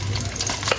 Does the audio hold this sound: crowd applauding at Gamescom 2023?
no